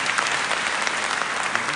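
Applause from an audience at an awards ceremony, a dense, steady patter of many hands clapping together, loud and continuous throughout.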